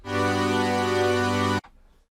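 A rich, buzzy synthesizer chord held steadily for about a second and a half, then cut off abruptly, leaving a brief faint tail.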